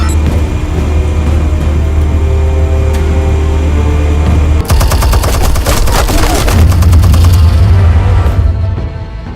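Heavy bursts of gunfire erupt in a Batman video game, a dense rapid volley starting midway over a steady low engine-like drone, loud and close, with a deep rumble lingering afterward.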